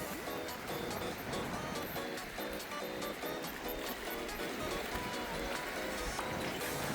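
Ocean waves wash continuously at a beach, a broad close hiss of surf with faint rhythmic clicking or tapping mixed in.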